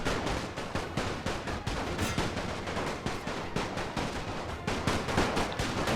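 Machine-gun fire in the World War I game The Great War 6.0, Austro-Hungarian side: steady, rapid bursts of automatic fire rattle on continuously at a moderate, somewhat distant level, with no talk over them.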